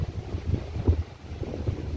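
Strong wind buffets an exposed open spot, rumbling low and steady with gusty surges and microphone-blown thumps, no voices heard.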